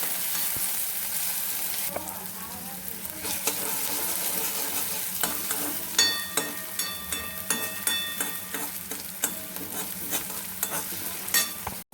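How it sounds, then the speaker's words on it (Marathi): Cheese Maggi noodles sautéed in a home-kitchen pan, with a steady close sizzle and repeated metallic spoon scrapes and clinks that grow more frequent in the second half. "चीज टाकूया आपण ह्याच्यामध्ये, चांगलं परतून घेऊया"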